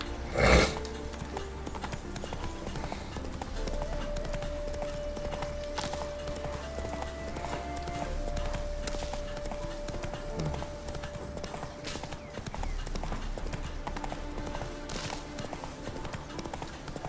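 A horse galloping in The Witcher 3 video game, steady rhythmic hoofbeats with a whinny near the start, under game music and occasional speech.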